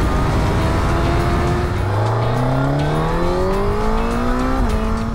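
A motorcycle accelerates hard in second gear, its engine note rising steadily and loudly with a brief dip at a shift, heard close and continuous over rushing wind.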